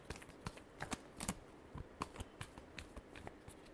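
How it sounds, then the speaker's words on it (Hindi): Tarot cards being shuffled by hand make quiet, papery riffles and soft taps in an irregular rhythm, heard up close and faint with no one speaking. "Last shuffle."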